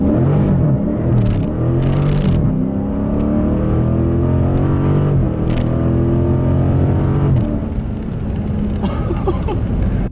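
A Dodge Challenger Widebody Scat Pack 392 V8 pulls hard in first gear, its loud, deep exhaust rising steadily in pitch as the revs climb. A brief break and a couple of sharp pops come partway through, and the engine dominates the whole stretch.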